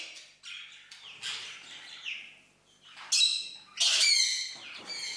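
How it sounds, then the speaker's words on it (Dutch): Birds in an aviary enclosure squawk and chirp in bursts, with louder shrill calls toward the end, fairly close and without speech. "Ja, dit is het gedeelte voor de vogels"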